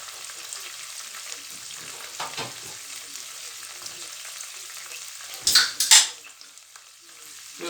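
Thai red curry ingredients frying in a pan, a steady close hiss of sizzling oil with occasional stirring scrapes and a couple of louder spitting bursts near the end.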